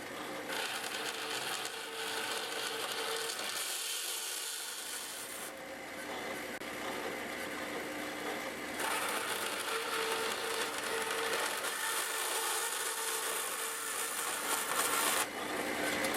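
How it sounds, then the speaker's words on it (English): A metal-cutting bandsaw slices through a metal hinge, giving a steady, close rasping whir that runs unbroken for the whole stretch with slight shifts in tone and no talking. "I'm going to cut it with a metal cutting bandsaw"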